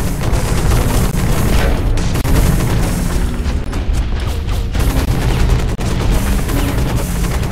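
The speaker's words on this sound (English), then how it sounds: "I guess I'll just have to use the assault rifle for a bit" Sustained rapid gunfire from an assault rifle in the mech combat game Hawken, dense booming bursts running nearly continuously and loud throughout with no gaps for talk.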